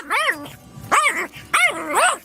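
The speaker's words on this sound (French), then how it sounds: "j'exploite un aboiement de chien" A dog barks in three sharp, tonal yaps with a faintly whining edge. They come close and loud, spaced about half a second apart, and are used as a sample for music production.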